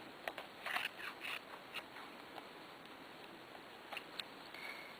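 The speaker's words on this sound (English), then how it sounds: "place your spool of thread on your fabric and just cut around it." Scissors snip around a thread spool laid on fabric for a circle flower, giving a series of short, fairly close cutting clicks spaced irregularly, with a quiet background.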